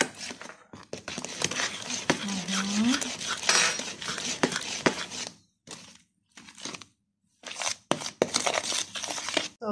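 Ingredients for Armenian gata dough being stirred together in a bowl, giving intermittent scraping and clinking of a utensil against the bowl with pauses between strokes, while a person talks over parts of it.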